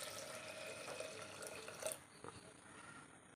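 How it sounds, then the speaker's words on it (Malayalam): Water is poured into a cooking pot of tomato sambar ingredients, a steady splashing flow that stops partway through, followed by a few faint drips and then quiet. "ആവശ്യത്തിന് വെള്ളം ഒഴിച്ച് കൊടുക്കാം."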